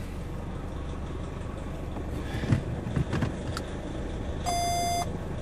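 A parking sensor fitted to the metal bumper of a Nissan Navara gives a short electronic beep burst as the vehicle reverses, heard over a steady engine hum and cabin noise.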